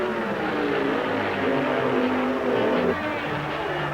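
An Indy race car at the 1979 Indy 500 roars back to life after a push start, its engine droning loudly and shifting pitch over a few seconds, close and continuous.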